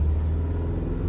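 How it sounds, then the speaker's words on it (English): Mazda CX-5 Skyactiv engine held at a raised idle around 2000 rpm, a steady low, loud rumble with no break over a second. "So if I rev the car or the engine to 2000 rpm"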